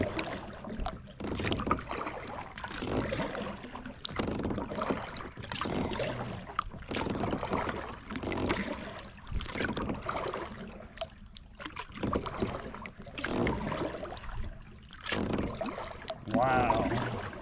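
A kayak moves along the Trap Pond waterway in Delaware, with a steady wash of water and paddle strokes, some wind buffeting the microphone, continuous throughout.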